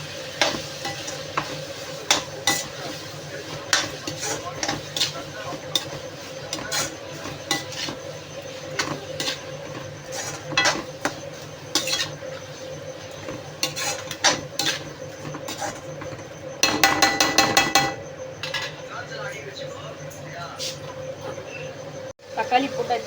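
Tomatoes with rock salt are stirred in a pan for thokku, with repeated scraping and clinking of a spoon against the pan over a soft background sizzle and a brief burst of louder rattling partway through; a voice speaks at times.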